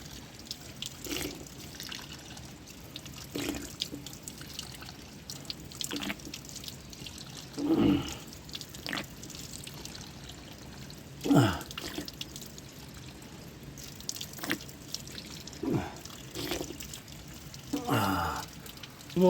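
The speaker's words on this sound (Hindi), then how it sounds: "तो वहाँ टपक रहा है पत्थरों से ऊपर से, और फिर पाइप के ज़रिए लाया गया है" Water trickles and drips steadily from a pipe at a roadside drinking spot on a mountain walk, fed from water seeping down the rocks above; a continuous close splashing with scattered louder drips and faint background noise.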